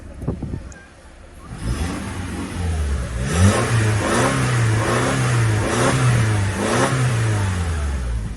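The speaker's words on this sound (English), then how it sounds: "Let's rev the engine a little bit, see." A 2009 Lexus ES 350 engine at a salvage auction lot revs repeatedly after a quiet start, each loud rise and fall of the motor clearly audible up close, with no talking over it.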